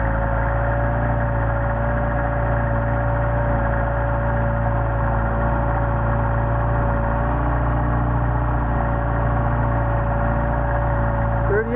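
A Mercedes 190SL with Solex carburetors idles through a cold warm-up at 29°F, a steady, close mechanical drone with a constant whine that stays even for the whole stretch, with no talking.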